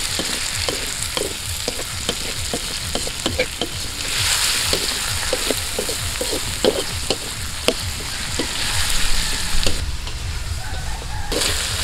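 Tomatoes fry in a pan cooked outdoors for kinamatisang tuyo, a dried-fish dish, with a steady close sizzle and repeated scraping stirs throughout.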